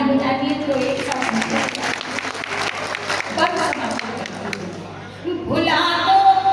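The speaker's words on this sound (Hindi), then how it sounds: "तालियां बजाती है तो एक साथ" An audience at a Hindi poetry recitation applauds in a broad, sustained wash of clapping, with a voice and faint music audible beneath and returning as the clapping thins near the end.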